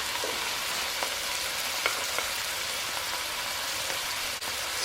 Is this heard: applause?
no